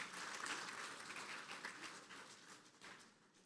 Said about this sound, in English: Round of applause for all.